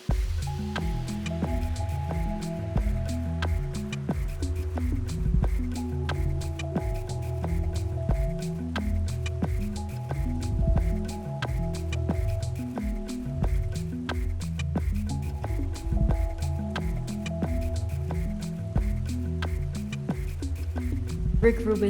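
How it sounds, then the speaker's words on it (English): Rhythmic beat built from technologically modified water sounds, with quiet squishy drips and splashes forming a repeating pulse under a faint sustained tone. "And so we are dancing to the rhythm of water."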